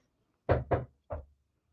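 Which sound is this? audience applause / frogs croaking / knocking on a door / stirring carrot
knocking on a door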